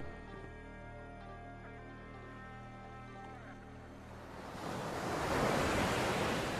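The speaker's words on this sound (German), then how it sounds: "Doch lieber Meeresrauschen." Ocean surf rushing in after a humming, tonal stretch, the broad wash of waves swelling louder in the final seconds, near and steady, with no voices.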